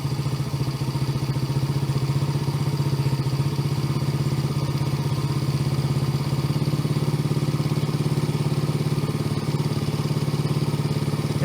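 A Yamaha TTR110 dirt bike engine runs at a steady, loud, close idle after an idle screw adjustment, with an even rapid putter and mechanical clatter throughout.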